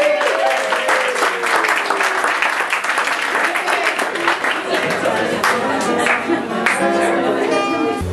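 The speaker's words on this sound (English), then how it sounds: "Can we have another round of applause for Willoughby?" An audience at a wellbeing talk applauds a speaker, a loud, dense wash of clapping close by with some cheering and voices mixed in, sustained across the whole stretch.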